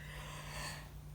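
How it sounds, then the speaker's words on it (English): A quiet, breathy yawn late at night, a drawn-out open-mouthed inhale and exhale heard close and soft with no talking. "I may have a couple yawns in here"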